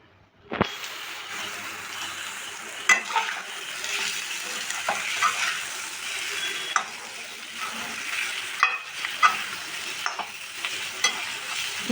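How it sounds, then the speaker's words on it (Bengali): Chicken frying with coriander leaves and a packaged spice mix, a steady close sizzle broken by repeated stirring scrapes and clinks from beginning to end. No one speaks. "আমি এর মধ্যে এবার ধনিয়া পাতা ও সানরাইজ মশলা দিয়ে চিকেনটা কষিয়ে নামিয়ে নেব"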